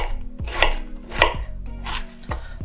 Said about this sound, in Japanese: まずは玉ねぎをみじん切りにしていきます。